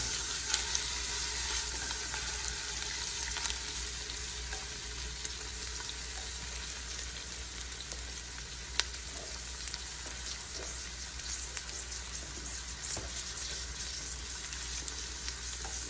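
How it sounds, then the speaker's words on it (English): Onions frying and cooking down in oil in a pot, a steady dense sizzle running continuously at moderate loudness, with occasional faint stirring clicks and no voices. "I'm gonna add the onions in. Add in our onions. Let those cook down."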